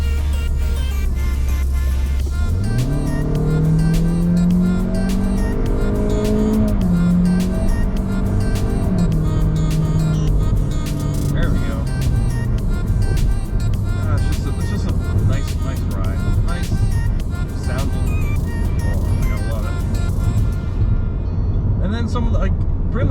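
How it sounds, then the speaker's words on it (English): A car's engine accelerates up through the gears on a country road, rising in pitch then dropping at each shift several times, loud and close from inside the vehicle with a steady road roar beneath. "Let's kind of accelerate up the gears."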